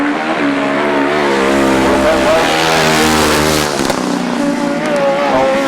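Grasstrack motorcycles race through a turn on the last lap at the British Grasstrack Championships, a loud, continuous engine roar with rising and falling pitch under a commentator's voice.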